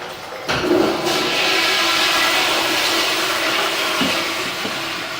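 A toilet flushes loudly with a sudden rush of water that churns steadily for several seconds, close by.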